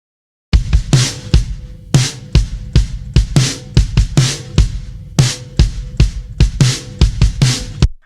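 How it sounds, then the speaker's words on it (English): A solo kick and snare drum track plays a steady groove, with punchy low thumps alternating with sharp, bright snare cracks in a repeating rhythm, close and alone. "And then the kick and snare sound like this."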